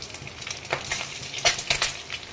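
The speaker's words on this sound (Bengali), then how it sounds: "এইভাবে উল্টে পাল্টে ভেজে নিচ্ছি।" Eggs fry in hot oil in a pan, sizzling steadily with a few louder crackling bursts as they are turned over.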